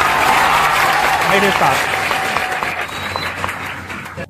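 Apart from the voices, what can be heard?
audience applause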